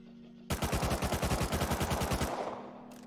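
Automatic gunfire in Rust Console Edition on PS5 erupts after a short quiet moment as a loud, rapid, evenly spaced burst of about two seconds. It then cuts off, leaving a fading tail.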